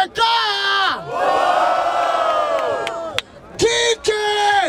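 A crowd at a Brazilian freestyle rap battle in Barueri roars with loud sustained cheering and shouting, swelling for several seconds, dipping briefly, then erupting again in bursts near the end.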